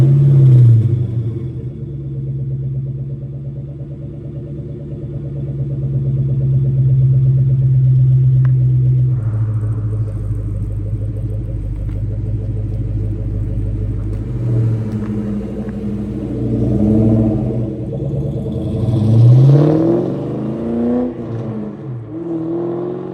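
A 2004 Ford Mustang Mach 1 V8 rumbles steadily down the road from inside, its low engine drone rising and falling through gear changes with a few revving surges near the end; no talking.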